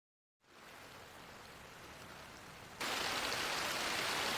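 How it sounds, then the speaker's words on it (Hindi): Heavy night rain starts abruptly, a dense steady hiss of falling water that suddenly grows louder and fuller partway through, with no voices. "मुझे तो लगा था रात में हल्की बारिश होगी, पर ये तो उम्मीद से ज्यादा है।"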